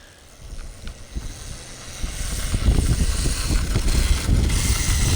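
A nine-year-old rides a dirt bike along wooded trails, the small engine rumbling faintly at first, then swelling louder and closer, with wind buffeting the microphone.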